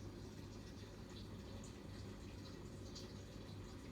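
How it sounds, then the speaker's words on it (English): Water from a fish tank is poured into a turtle's high-sided plastic feeding container, giving a faint, steady trickle that runs on without a break. "I always make sure I put a bit of water from his fish tank in there"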